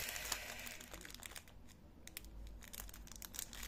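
Resealable plastic bags of glass diamond painting beads crinkle and rustle as they are handled, a near, quiet and irregular run of crackles with a few sharper bursts and no talking.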